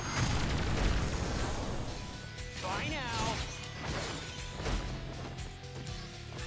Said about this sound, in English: Explosion again.